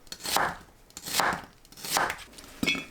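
A knife slices onion into thin strips for pickled red cabbage, four crisp separate cuts evenly spaced about a second apart, near and fairly quiet.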